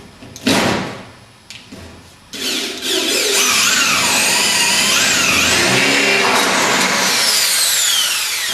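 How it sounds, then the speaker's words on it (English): Power drill with a 6mm bit boring a hole to take a larger rivet, a few short bursts at first, then a sustained loud whine with pitch rising and falling as the bit cuts through. "Drill it with a 6mm drill bit to take the larger rivet."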